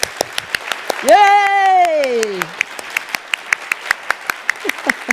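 Scattered, rhythmic applause from a small audience at an open-mic education conference session, sharp distinct claps with a long cheering cry partway through.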